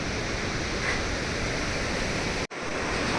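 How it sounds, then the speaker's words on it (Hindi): Steady roaring rush of a waterfall beside the mountain trek to Ghangharia near the Valley of Flowers, loud and constant with a brief dropout near the end. "एक मनोरम झरना ये भी दिख गया हमें"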